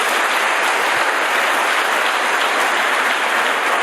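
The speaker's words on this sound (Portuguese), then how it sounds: "Dê um aplauso ao Senhor por isso." Church congregation applause during a sermon, a continuous, loud and even wash of clapping from many people, sustained throughout with no speech over it.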